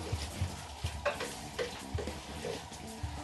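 Conch (lambi) and onion frying in a pan while being stirred, with a soft steady sizzle under regular scraping strokes of a spoon roughly every half second, close and fairly quiet.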